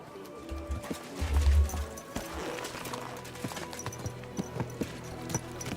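Hooves of a horse in a video game clip-clop at a walking pace, light and regular, over a low rumble and faint ambient bird calls, with no talking.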